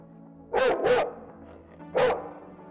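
Three sharp dog barks, two in quick succession and then a single bark after a short pause, close and fairly loud over a quiet hum.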